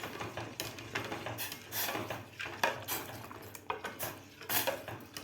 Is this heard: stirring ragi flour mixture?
yes